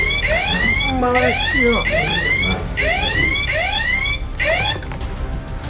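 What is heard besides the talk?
strange alarm clock ringing during test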